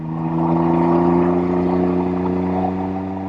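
A Can-Am Ryker three-wheeler engine revs and holds a steady, droning note with strong harmonics, loud and close, easing slightly toward the end with no voices over it.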